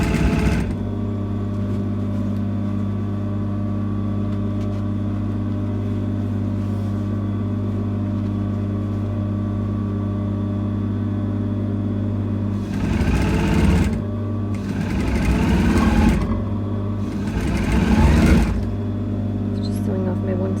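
A sewing machine hums steadily as it sews a seam on a cape, a close, continuous motor drone. Brief bursts of talk cut in toward the end.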